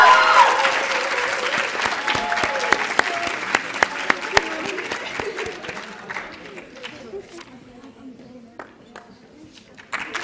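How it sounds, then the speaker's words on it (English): Audience applause at an inter-college environmental public speaking competition, a dense crowd clapping steadily for about ten seconds and slowly thinning out, with scattered sharp claps and faint chatter underneath. "Please give Al Yamama University from Saudi Arabia a big round of applause."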